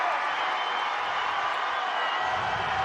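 Crowd noise from Notre Dame fans at a Division 3 state championship football game, a steady broad roar of cheering and voices from a large distant crowd, continuous throughout without clear claps or peaks.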